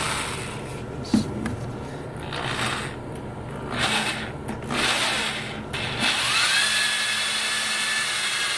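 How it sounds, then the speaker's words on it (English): A power drill whirs in bursts, grinding into a small flute mouthpiece tube with rough scraping, a few short pulses then a steadier run toward the end, close by. "Now we'll drill the other side."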